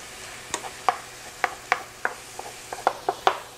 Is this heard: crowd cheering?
no